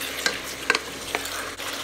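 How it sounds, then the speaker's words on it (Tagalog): Chunks of beef for a red wine stew brown in a pot, with a steady low sizzle broken by a few brief stirring scrapes and clinks, close and moderately quiet. "Hayaan lang natin itong maluto ng bahagya hanggang maging equal na yung color ng ating karne ng baka."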